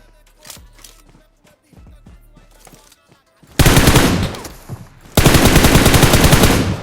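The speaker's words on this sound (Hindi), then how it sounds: "देखो ऊपर से स्नाइपर का शॉट आता है" Gunfire in a battle royale video game, with a sniper shot coming from above, heard as a quiet stretch of scattered clicks followed by two loud, dense bursts of rapid shots.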